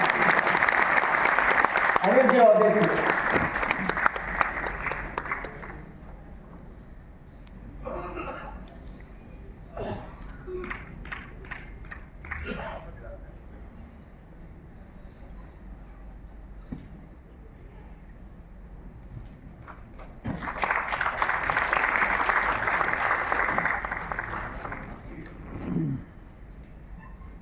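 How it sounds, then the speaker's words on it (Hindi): Audience applause for volunteer workers at a memorial gathering, a loud burst of clapping at the start and another around the twenty-second mark, with a voice speaking over a PA between them. "इन सेवाभावी कार्यकर्ताओं के लिए जोरदार तालियां बजाकर इनका उत्साह।"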